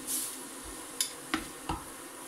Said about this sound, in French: Alors on essaye d'émietter comme ça le poisson.